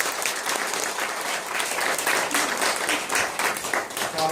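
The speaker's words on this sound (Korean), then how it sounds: "안 드시겠다는 박수 한번 쳐주세요." A lecture audience at a GMO forum claps together in a steady, dense burst of applause lasting several seconds, fairly close and without speech over it.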